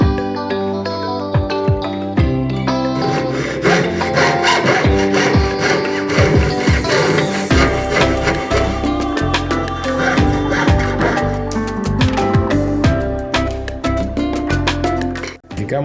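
Gold strip for classic wedding rings is cut with a fine jeweler's saw at the bench, producing a steady, close rasping stroke with a bright metallic ring running continuously throughout.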